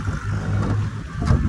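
Tractors levelling farmland with laser land-levelling equipment give off a steady, fairly loud low engine drone close by.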